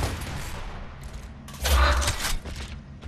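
Bursts of gunfire from the video game Gears of War Ultimate Edition, a heavy volley rising over a second or so and then trailing off, with players' voices talking around it.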